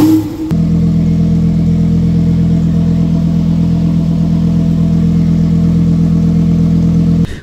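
A Lamborghini Revuelto sports car with its engine running produces a loud, steady, deep drone that holds almost unchanged from just after the start until cutting out at the end, with no talk over it.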